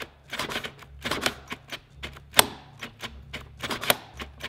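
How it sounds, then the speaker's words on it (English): A cordless drill's trigger is clicked over and over to get past a thermal cutoff, giving a quick, uneven run of sharp, close clicks with brief bursts between them. "so I just keep clicking the trigger to bypass it"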